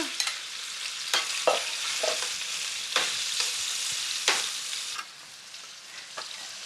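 Scallops and shrimp sizzle loudly in a hot pan, a steady close frying hiss broken by repeated clicks and stirring scrapes, dropping slightly near the end.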